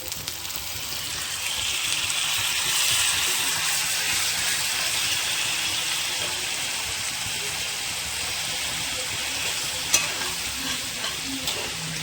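Spiced mutton brain sautéing in a pan with a splash of water, a loud, steady frying hiss that runs unbroken throughout, close up, with a faint clink near the end.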